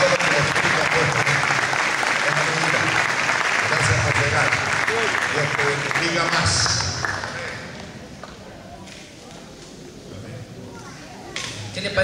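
A church congregation applauds during a service with visiting minister Juan Carlos Sánchez, loud dense clapping for about six seconds that then fades to a quieter murmur of voices and scattered claps.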